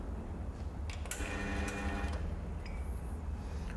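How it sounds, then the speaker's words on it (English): Espresso coffee machine's brewing chamber opening after extraction: a brief mechanical sliding and clicking sequence with a few sharp ticks, close and moderately loud over a steady low hum. "As you can see, the brewing chamber did open."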